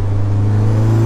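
An Alfa Romeo 4C Spider at speed through a corner, its engine holding a loud, steady drone that rises slightly in pitch, heard from close inside with no voices.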